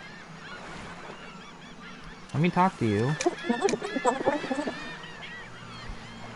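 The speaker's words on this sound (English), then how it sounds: "The gulls are a lot louder than we had imagined" Seagulls in the video game Yoku's Island Express burst out in a loud cluster of harsh, honking cries through the middle, with a brief spoken voice nearby and quieter stretches before and after.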